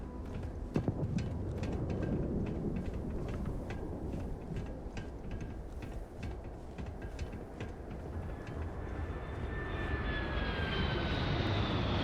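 A spaceship lands in Starfield, giving a dense, steady low roar with scattered mechanical ticks. A thin rising whine swells near the end as the rumble grows slightly louder.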